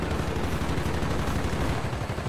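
Dense, continuous gunfire from Call of Duty: Black Ops fills the scene, rapid automatic bursts overlapping at steady loudness with no talking.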